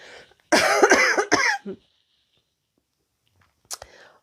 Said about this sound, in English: Oh, human, you got a cough again.